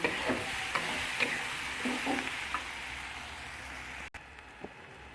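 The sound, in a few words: spices frying in used oil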